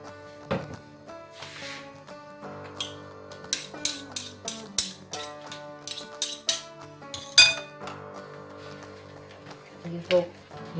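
A utensil stirs liquid soap base with glycerin in a container, making repeated bright clinks and scrapes in an uneven rhythm, close by, over a soft tonal background.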